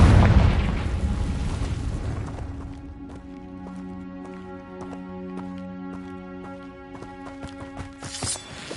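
A Confringo blasting spell goes off in Hogwarts Legacy: a loud burst at the start that fades into a long ringing, tonal magical tail, then a few sharp crackles near the end.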